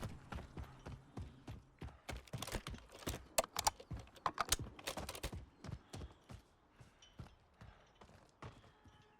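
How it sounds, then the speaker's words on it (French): Clicks and clacks of armor plate handling in Call of Duty Warzone, a dense run of sharp, close mechanical taps and snaps with a few louder cracks, no talking. "J'enfile une plaque d'armure."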